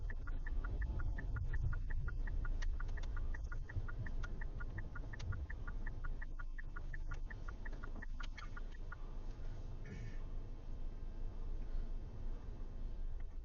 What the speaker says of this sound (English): The sounds of the birds chirping from every direction are making this place feel magical.